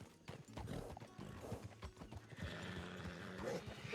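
A wild horse in the game RedM walks with rhythmic clip-clop hoofbeats close by, and a whinny is layered over the steps.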